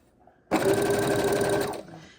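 A sewing machine stitches a seam through quilt fabric, running in one steady, close, continuous burst of a little over a second with quiet pauses before and after.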